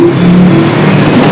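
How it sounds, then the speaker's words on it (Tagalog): A motorized tricycle passes close on a busy road outside a cockfighting arena in Taytay, its engine a loud steady drone with a rising and falling tone, no talking. "Tricycle."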